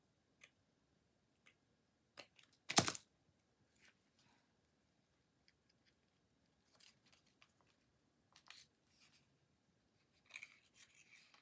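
Scissors cutting paper for a handmade flower card, one sharp close snip standing out amid sparse faint ticks and rustles in a quiet room.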